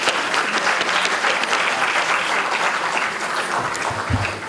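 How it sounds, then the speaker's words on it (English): A Salangai Puja audience gives a guest a loud, dense round of applause as he is welcomed to the stage. Sustained clapping fills the hall throughout, with a brief low thump near the end. "Let us welcome him with a big round of applause"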